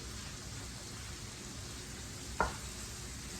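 A quarter cup of white wine hits a hot pan while fish cooks, giving a steady broadband sizzle throughout with one brief sharp clink or splash near the middle, close and moderately loud, with no talking.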